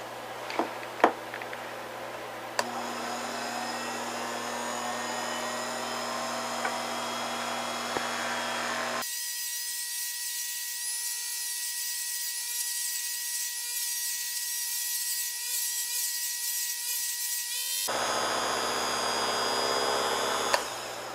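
A small polishing machine buffs a watch crystal with toothpaste, giving a steady whirring hum that runs throughout, with a brief quieter stretch where the motor tone thins before the fuller whir returns.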